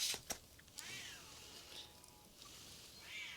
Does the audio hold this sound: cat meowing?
yes